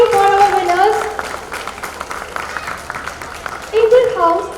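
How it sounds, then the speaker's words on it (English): At a school annual day prize distribution, an audience claps for the winners, a soft, steady patter of applause beneath an amplified voice speaking at the start and end. "Please keep clapping, keep applauding for our winners."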